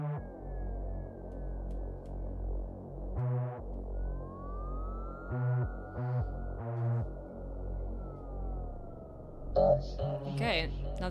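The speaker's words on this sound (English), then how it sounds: "it's through my vocoder on my synth." A robotic voice through a synth vocoder counts in Sumerian, a series of short words over a sustained droning synth chord, with a brief burst of noisier sound near the end.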